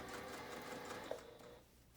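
A sewing machine stitches a fabric casing for a dress at a long stitch length, its steady rapid whir running close and continuous before slowing and fading near the end.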